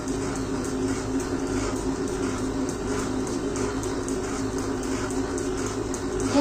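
Water sprayed onto a cotton wick-making machine belt to dampen it gives a steady, continuous hiss of spray and running water, fairly close, with no talk over it.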